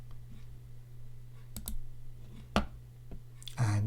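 A few sharp mouse clicks land in a quiet room during Photoshop work, spaced apart, with a steady low hum underneath and a brief louder rustle at the end.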